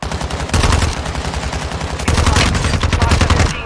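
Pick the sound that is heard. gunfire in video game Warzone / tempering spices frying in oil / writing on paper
gunfire in video game Warzone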